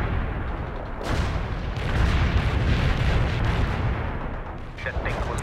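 Artillery in the real-time strategy game World in Conflict: Soviet Assault, heard as a continuous roar of distant booms and heavy rumbling explosions that build and then ease, with a few sharp pops near the end.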